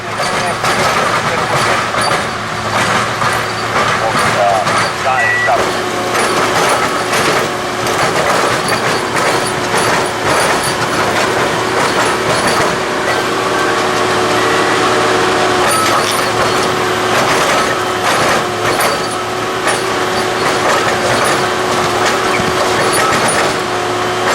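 Railroad track machines placing new crossties and pulling out old ones, a loud continuous mechanical clatter and rumble with repeated clanks throughout.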